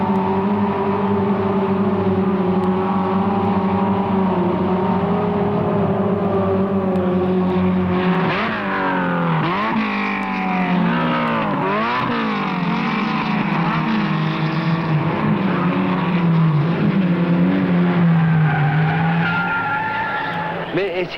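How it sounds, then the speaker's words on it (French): A pack of 1966 Renault R8 Gordini race cars screams past bumper to bumper, engines droning loudly, then rising and falling in pitch as they pass, while someone narrates over the racing noise. "Dès le premier tour, pare-choc contre pare-choc, c'est l'épreuve de vérité pour la meute des voitures bleues."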